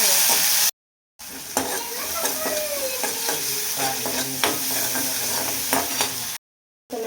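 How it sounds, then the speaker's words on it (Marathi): Green chillies with salt fry in hot oil with a steady close sizzle, broken by clattering stirring strokes and spoon scrapes; the sound drops out briefly near the start and again near the end. "हिरवी मिरची थोडीशी तळल्याच्या नंतर आपल्याला टाकायची आहे मुगाची डाळ."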